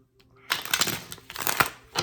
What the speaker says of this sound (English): So one more shuffle, and we're gonna find out.